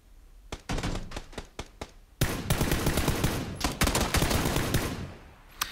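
Machine gun fire in PUBG on Xbox One, first a string of separate sharp shots, then a long sustained automatic burst, loud and close, with no talking.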